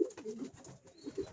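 Racing pigeons in a loft cooing softly, a few low throaty coos repeating close by, faint against quiet background.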